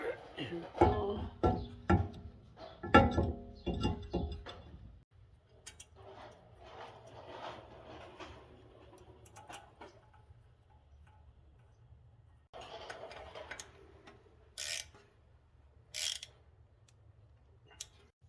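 Brake rotor going onto the hub of a 2010 Audi B8 S4 with clunks, metallic ticks and ratcheting clicks close by, busier at the start and then sparse, with a couple of sharp taps near the end.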